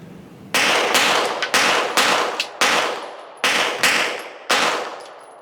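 Smith & Wesson M&P 2.0 Metal pistol fired in a string of about seven loud, sharp shots at irregular intervals, each with a brief decaying ring, close to the listener.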